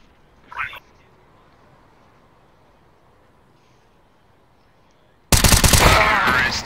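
Gunfire in the game CS:GO during a LAN event: a short quiet burst early on, then a loud, sustained rattle of shots near the end over the low room noise.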